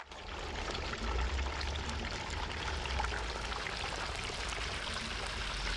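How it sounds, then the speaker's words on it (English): Hot frying oil dripping steadily off freshly fried food held over the pot after the burner is shut off, a continuous close trickling patter with no talking. "let all the oil as much as possible drip right off"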